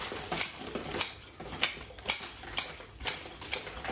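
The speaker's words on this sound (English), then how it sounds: "bit of a trim with some Greenwood scissors." Greenwood scissors snipping through soil and roots while repotting a Pinus nigra bonsai, crisp metallic cuts repeating about twice a second, close and clear.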